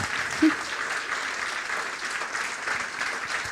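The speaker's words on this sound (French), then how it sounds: "Un applaudissement, peut-être." Scattered applause from the audience at a university graduation ceremony honouring top work-study students, a soft, steady patter of clapping that stays fairly quiet from start to finish.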